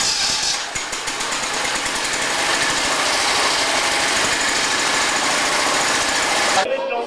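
An old engine fitted with a starter motor instead of a crank handle runs with a loud, fast rattling chatter at close range, then cuts off abruptly near the end, while festive music plays along.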